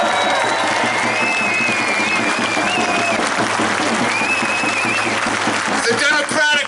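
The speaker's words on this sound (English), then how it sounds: "Let's give him a round of applause." A crowd at a union strike rally claps loudly and continuously, with cheers and whistles rising over the dense applause and a few voices calling out.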